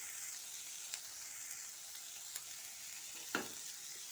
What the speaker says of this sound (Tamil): கடைசியாக மல்லி, சீரகத்தை போட்டு வதக்கிக்கலாங்க